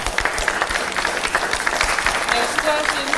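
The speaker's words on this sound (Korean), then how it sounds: "수고하신 후보님께 박수 부탁드리겠습니다" Audience applauds a party candidate at a political convention event, steady dense clapping throughout with some crowd noise and voices mixed in, loud and close.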